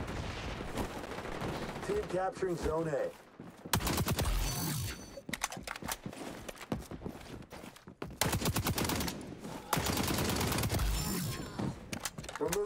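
Automatic gunfire in the shooter video game XDefiant, loud bursts of rapid shots with brief pauses, plus mechanical clicks and footsteps, under an in-game announcer voice.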